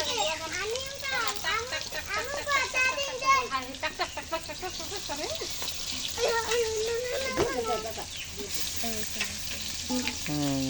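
Fish fries in a pan in a busy home kitchen. The sizzle stays low and steady beneath lively talk and children's voices.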